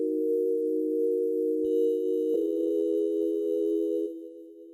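A dry, unprocessed synth chord holds steady in a dance production, then shifts to a new chord partway through with a few soft clicks before fading slightly at the end.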